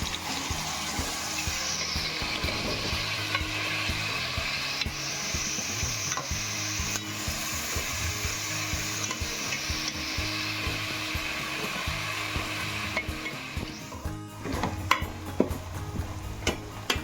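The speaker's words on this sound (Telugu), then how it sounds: "ఇది బ్రౌన్ కలర్ వచ్చే వరకు బాగా వేసుకోవాలి" Onions and green chilies frying in oil while being stirred toward brown, a steady close sizzle with occasional scraping of the spoon in the pan, continuous and unbroken for the whole stretch, no voices.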